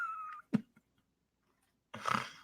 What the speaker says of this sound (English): Cat, could you be quiet?